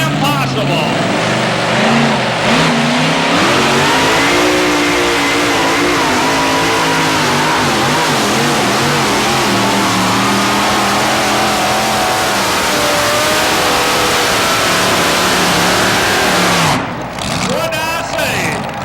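Loud, continuous roar of a pulling vehicle engine held at full throttle during a 1987 truck and tractor pull in Raleigh, the pitch rising and wavering as it strains down the track, with announcer talk running over it.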